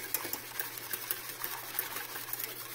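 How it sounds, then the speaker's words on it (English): Pumpkin latte syrup ingredients being whisked together in a bowl, giving a steady, fast scratchy whirring with small rhythmic clicks, close and moderately quiet with no voices. "I'm just going to whisk this together to get that all mixed up before I add the pumpkin and the Glucy"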